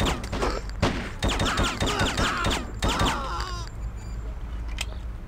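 Bursts of gunfire from the video game Hitman: Codename 47: sharp cracks scattered across a few seconds, mixed with a talking voice that fades out near the end.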